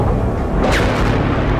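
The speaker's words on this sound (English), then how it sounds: "You can hear the bombs now. They are hitting the center of the city." A loud, continuous low rumble with a deep boom partway through, like distant bombs exploding in a city center, with a brief higher whine riding over it.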